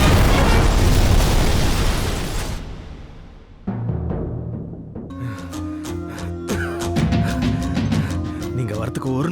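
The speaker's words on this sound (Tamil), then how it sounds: "அதான் விட்டேன் ஒரு தீபாவளி ராக்கெட்" A Diwali rocket firework explodes in a film scene: a loud rushing blast that fades out, followed by a dramatic musical score over which voices talk.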